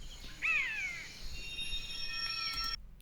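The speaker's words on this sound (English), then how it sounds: "the second one is the European forest, and the sounds of the birds," Stock sound effect of birds in a European forest: a clear downward-swooping call comes first, followed by thin, high whistled bird notes over a soft, airy background, then it cuts off abruptly.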